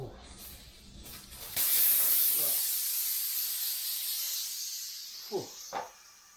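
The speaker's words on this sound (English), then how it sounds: "So we can see lots of little leaks, lots of areas for air to come out." Air hisses steadily out of many small leaks in a tubeless bicycle tyre, a loud broadband rush that starts abruptly and slowly fades, with a few brief knocks near the end.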